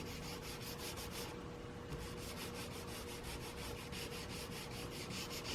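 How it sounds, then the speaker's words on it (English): Quiet, rhythmic back-and-forth wet sanding with 1500-grit sandpaper over the paint of a 1967 Ford Mustang, strokes repeating evenly in a crosshatch pattern with a short pause early on. "I will do this as wet sanding"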